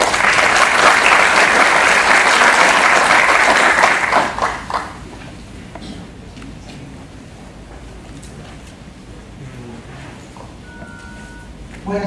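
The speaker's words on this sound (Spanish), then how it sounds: "a quien recibimos con un fuerte voto de aplausos" An audience at a judicial conference for Judges' Day and the anniversary of Lima's Superior Court of Justice gives loud, sustained applause. The clapping fades after about four seconds into a quiet room, with faint talk continuing underneath.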